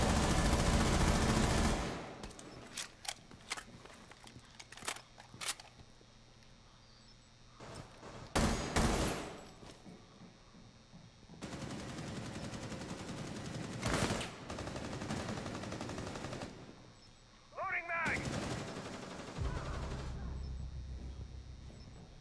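Gunfire in a shooter video game on the Clubhouse map: sharp, loud bursts of shots, some quick single cracks and some longer automatic volleys, with irregular pauses between them.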